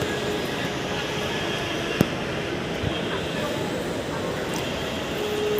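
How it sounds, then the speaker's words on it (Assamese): A train rumbles past in Guwahati during the Durga Puja season, heard from a moving car as a steady, fairly close, broadband roar that fills the whole clip, with voices talking over it. "ট্ৰেইন এখন"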